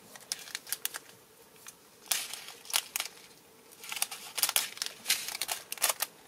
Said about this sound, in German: Dann hole ich mir die Tüte 1 und schneide mir die schon mal ab.